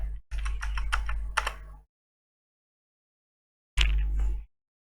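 Keys on a computer keyboard tapped in a quick burst of several strokes while an amount goes into an online form, then a pause and a second short flurry, close and clear with no voices.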